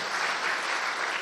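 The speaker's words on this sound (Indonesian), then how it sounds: "Boleh dong sesekali tepuk tangan untuk tim pujian penyembahan," A church congregation at a Sunday worship service applauds the worship music team, dense continuous clapping from many hands, steady and moderately loud throughout.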